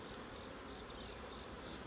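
Honeybees buzz inside an opened hive during a fall mite treatment, a dense, even drone close up with no pauses and no voices.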